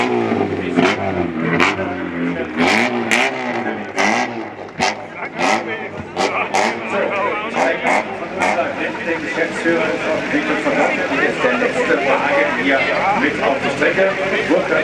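A historic rally car engine revs and roars nearby at the start of the Rallye Monte-Carlo Historique in Bad Homburg, amid crowd chatter and sharp clatter, the motor droning loudly throughout while voices talk over it.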